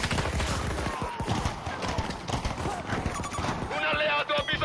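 Gunfire in a video game, with rapid bursts of shots among hoofbeats and other battle noise, loud and close, while a voice talks over it.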